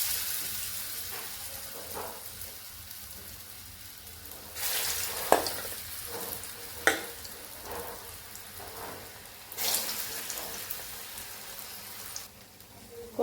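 Potato fritters go into hot oil in a pan, giving a soft sizzle that swells in two louder bursts, with scattered clinks and taps from cookware in between.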